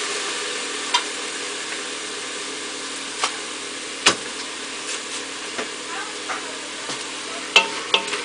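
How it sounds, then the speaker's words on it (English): Green beans, onions and celery are stirred in a pressure cooker pot, giving soft scraping and scattered light clicks and taps at irregular intervals over a faint steady background hiss. "I'm just mixing it on in there."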